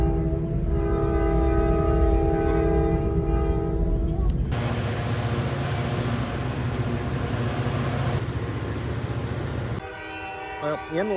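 A commuter train rolls past with a loud, sustained horn blast holding steady tones for several seconds, backed by heavy rumbling wheels and engine noise, before the horn cuts off and the passing rail noise continues.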